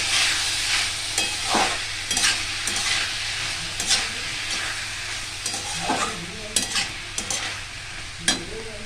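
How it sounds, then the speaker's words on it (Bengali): Chopped banana flower stirred and sautéed in a pan for a Bengali curry, steady sizzling hiss broken by repeated scraping strokes of a spatula, close and clear with no talking. "মোচাগুলো দিয়ে দেবো। ভালো করে কষাবো।"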